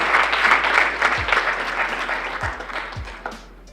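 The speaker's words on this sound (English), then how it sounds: "Ladies and gentlemen, hands of applause." Steady applause from a crowd at a university awards ceremony, dense clapping that holds strong and then tapers off toward the end.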